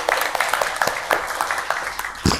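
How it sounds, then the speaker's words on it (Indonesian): Classroom audience clapping for a presenter who has just spoken, scattered sharp hand claps in an uneven rhythm, moderately close, ending with a louder thump. "tepuk tangan untuk Mbak Dewi."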